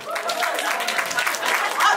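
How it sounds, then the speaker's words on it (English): Crowd at a comedy show clapping hands on a comedian's prompt, a busy, continuous patter of applause mixed with scattered voices and chuckles. "clap your hands"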